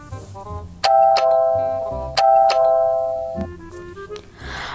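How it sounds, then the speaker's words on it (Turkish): A two-tone electronic doorbell in the game Toca Life chimes twice in succession, bright and clear, each ding-dong ringing out and fading, with quiet background between. "Evet şu zili de çalalım"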